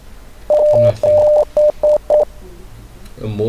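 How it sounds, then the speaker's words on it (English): Morse code beeps in the horror game Rise of Insanity: five short electronic tone bursts of uneven length in a quick irregular run, loud and close, followed by a brief murmur of low sound. "A Morse code."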